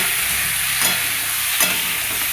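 Ginger, cumin, green chilli and a little tomato frying in a pan, a loud, steady sizzle with two quick scraping stirs and no talking.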